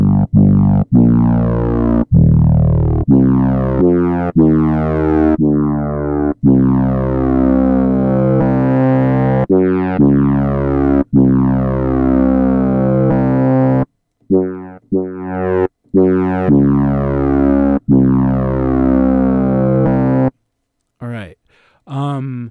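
Synthesized bass tones made in Ableton Live from a single sample: loud, harmonically rich buzzing notes in a choppy rhythmic sequence with a sweeping, vowel-like filter, alone with brief gaps near the end.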